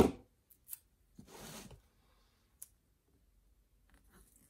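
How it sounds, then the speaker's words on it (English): A cardboard box is cut up with scissors close by: a few crisp snips and clicks, then one longer rasping cut, with quiet gaps between them. "I'm gonna just cut up this box"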